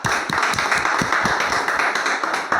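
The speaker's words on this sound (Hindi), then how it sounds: "इनके लिए मैं चाहूँगा आप जोरदार ताली से इनका स्वागत करें" An audience claps loudly to welcome a loyal buyer at an RCM Business meeting, dense continuous applause from many hands close by.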